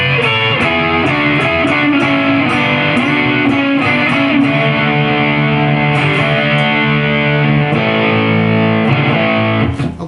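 Electric guitar double-stop chords high on the fretboard, with a mildly distorted tone; a steady run of loud, rhythmic two-note chords played alone for ten seconds.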